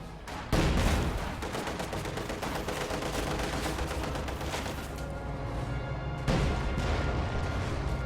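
Incoming artillery rounds and dense gunfire in a World War II real-time strategy game battle with KV-1 tanks and Grenadier squads, a sustained loud barrage of overlapping blasts with two heavier booms near the start and later.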